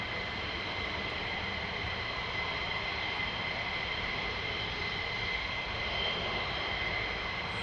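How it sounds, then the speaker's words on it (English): An F-15 fighter jet flies past, a steady, loud broadband roar of jet engines that holds evenly throughout with no voices over it. "But most importantly, the fantastic F-15s."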